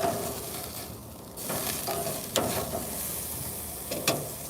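Rib steak sizzling on Uncle Drew's outdoor grill, a steady broadband hiss with a brief lull and a few sharp pops and crackles, heard alone without voices.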